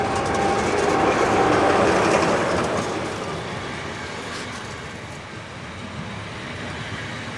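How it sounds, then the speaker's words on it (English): Special excursion train to Lubau with diesel locomotive 112481 and steam locomotive 528141 passing close by, a loud rumbling and clattering roar that peaks early and then gradually recedes into steady rolling noise. "The stock for the afternoon special excursion to Lubau with diesel 112481 and steam locomotive 528141 passed by our camera."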